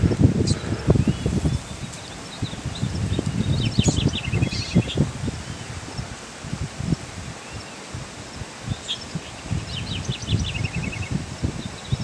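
A double-collared seedeater sings a few short bursts of high chirping notes, fairly faint, over steady outdoor wind and rustling.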